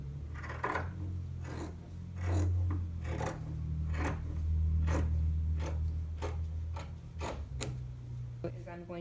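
Scissors snipping back a fabric seam allowance, a string of short crisp cuts at an irregular, fairly steady pace, close and quiet over a low steady hum.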